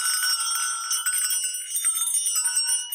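A handmade welded Christmas bell with a 3/8-inch ball bearing clapper rings steadily and close, bright sustained tones shimmering with repeated light strikes throughout.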